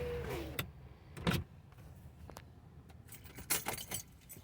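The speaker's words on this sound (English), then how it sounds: "I gotta get this window up." A car's power window motor whirs briefly as the glass rolls up, mixed with keys jangling and road traffic noise around it.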